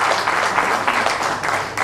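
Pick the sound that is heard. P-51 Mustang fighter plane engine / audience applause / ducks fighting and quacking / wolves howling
audience applause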